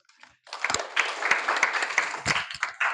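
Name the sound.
applause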